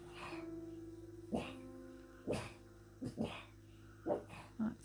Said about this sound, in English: that's Dinky and Tinsel having a little conversation with the dogs next door